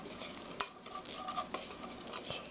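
Grated potatoes seasoned for hash browns are mixed by hand or spoon in a bowl, giving a soft, quiet scraping and rustling with a few sharper knocks of utensil against the bowl.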